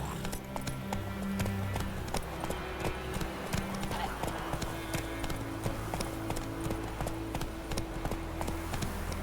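Roach the horse gallops in The Witcher 3, a steady rapid clip-clop of hooves running continuously and close, with a rider's voice calling out over the hoofbeats.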